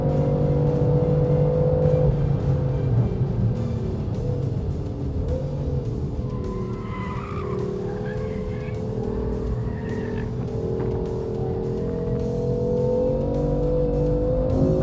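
A BMW M4 Coupé GTS with M-DCT gearbox roars steadily at speed down a race track's front straight, its engine drone loud and continuous with brief tyre noise near the middle.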